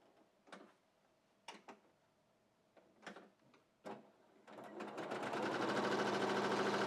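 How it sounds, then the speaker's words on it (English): A sewing machine stitches a quarter-inch seam along the long edge of fabric for a wall hanging project, starting after a few handling knocks and then running in a loud, steady rapid whir. "we're going to now just sew a 1/4 inch seam down each long edge"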